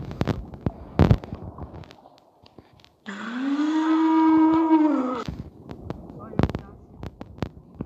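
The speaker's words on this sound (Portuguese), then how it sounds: "mugido de vaca?" A long, low cow moo in a dinosaur video game rises and holds for about two seconds between sharp clicks and thuds, with a voice talking around it.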